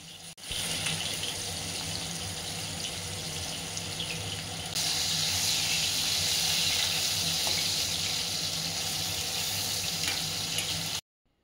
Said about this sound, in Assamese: এতিয়া মাছকেইপিচ ভাজি লওঁ